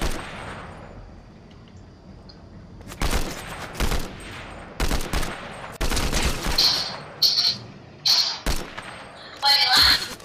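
Gunfire in the video game Fortnite, several loud bursts of rapid automatic shots in quick succession, with pauses between volleys and sharp ringing hits, while people talk over the action.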